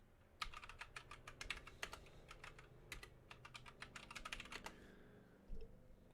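Rapid typing on a computer keyboard while entering a Telnet login, with dense bursts of clicky keystrokes in quick uneven runs, a short pause, then a final heavier key press near the end; no talking.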